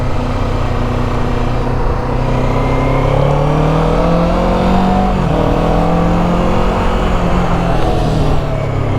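A Kawasaki Ninja 7 Hybrid motorcycle's electric motor hums steadily and loudly, with tones rising and shifting as it accelerates, a continuous whine over road noise.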